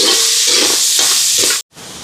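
Tomatoes sautéing in a hot pan for a chicken dish, a loud steady hiss of frying with brief stirring surges, cutting out abruptly near the end before resuming more quietly.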